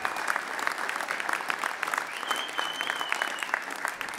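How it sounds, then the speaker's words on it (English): A crowd at a Jockeys & Jeans charity event gives a sustained round of applause, dense and even clapping filling the whole stretch at moderate loudness, with a faint cheer or whistle rising briefly in the middle. "let's give a big round of applause to Tom, Caesars, our Hall of Famers, and our fallen riders for going the extra mile."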